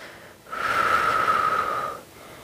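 A single long breath during an exercise session, a close, airy exhale that swells and fades over about a second and a half, with no talking.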